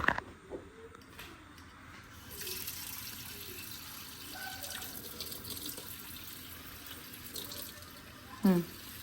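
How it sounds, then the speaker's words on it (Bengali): Water pours into a cooking pot in a home kitchen where beef and onion are being cooked, a steady, moderately loud splashing rush lasting several seconds with a few faint knocks and creaks around it. "এটার মধ্যে একটু পানি দিও"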